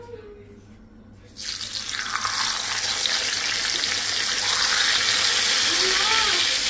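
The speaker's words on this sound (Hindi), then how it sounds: "अब इधर से निकालेंगे फिश और करें इसको फ्राई" Fish frying in a home kitchen pan sets off a loud, steady sizzle that starts abruptly and keeps building, with a quiet voice heard briefly before it begins.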